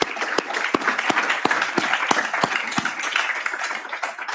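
A summit audience applauds together, a dense bed of clapping with sharper individual claps popping out near the front, steady and lively throughout with no talk over it.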